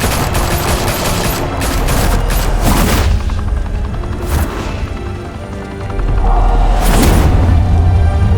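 Rapid bursts of gunfire in the Batman Telltale Series, a loud, dense barrage of shots with booming low thuds, easing briefly midway before another heavy volley erupts near the end.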